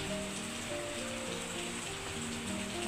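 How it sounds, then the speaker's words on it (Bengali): Steady rain falls continuously, a dense even hiss with a faint low hum beneath it and no voices. "হঠাৎ করে দেখি বৃষ্টি পড়তেছে দেখেন"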